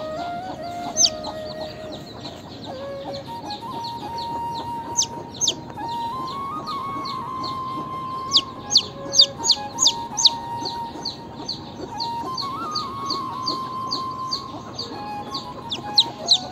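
A black silkie hen clucks softly among her chicks, whose rapid high peeps repeat in quick bursts close by over a low murmur.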